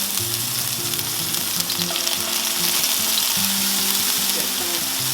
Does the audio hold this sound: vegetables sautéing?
yes